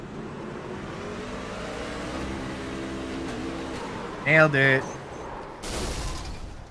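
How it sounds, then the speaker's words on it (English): Racing truck engine in a Trucker Series race at Montegi, heard on board, droning steadily before a sharp rev surge where the gear shift is missed, with a brief spoken remark. "You can hear how it revs up and then doesn't shift."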